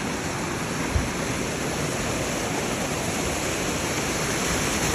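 Village floodwater after heavy rain rushes in a steady, loud roar, a continuous turbulent flow with no breaks and no voices.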